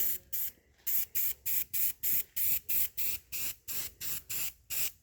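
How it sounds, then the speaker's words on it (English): A spray bottle spritzes cleaner onto car parts being prepped for paint on a 1978 AMC Gremlin, about fifteen quick, evenly spaced hissing bursts close up with no talking. "Just a little spritz here and there."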